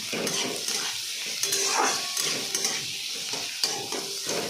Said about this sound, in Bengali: কুচনো আদা অ্যাড করছি আমি তারপরে আলু দিয়ে এবার ভালো করে এটাকে ভাজতে হবে